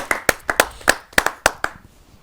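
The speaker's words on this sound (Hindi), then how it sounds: "आइए जोरदार तालियों से स्वागत करें।" A handful of listeners at a Hindi kavi sammelan clap to welcome poet Anju Dagar from Ghaziabad, a sparse run of about a dozen crisp, separate claps close by that thins out and fades.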